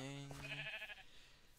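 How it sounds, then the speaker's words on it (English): Sheep bleating in the Minecraft video game, a single short wavering bleat close by, followed by a faint background hum. "Look, sheep."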